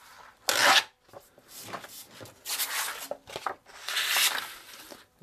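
Wet sandpaper being cut into four pieces while restoring an antique tea cart, heard as several close, dry rasping and tearing strokes in separate bursts, with short pauses between cuts and no talking.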